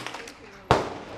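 A single sharp gunshot cracks at an indoor shooting range, fairly close and loud, with faint background noise beforehand and a short reverberant tail afterward.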